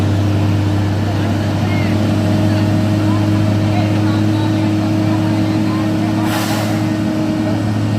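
Concrete mixer truck climbing an uphill road, its engine a steady, loud low drone with a brief hiss partway through, while voices talk nearby.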